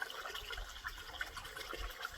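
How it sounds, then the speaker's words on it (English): A small waterfall trickles beside a hiking trail on the Pacific Crest Trail, a faint, soft, continuous splashing and burbling of running water with light irregular droplet sounds. "a little waterfall."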